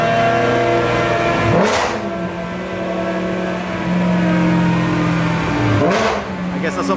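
A BMW E92 M3 running E85 fuel revs on a dyno, its engine swelling and dropping in two quick throttle blips over a loud, steady idle.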